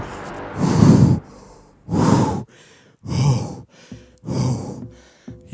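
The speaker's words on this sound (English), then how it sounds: "You can hear my heavy breathing." Heavy, rhythmic breathing up close: four or five loud, rasping inhales and exhales separated by short pauses.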